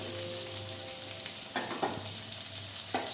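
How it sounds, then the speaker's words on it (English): Chopped onions go into heated oil for a Taco Mexicana filling, giving a steady close sizzle with a few brief stirring scrapes rising over it. "So the oil is heated, so I am adding the onions into it."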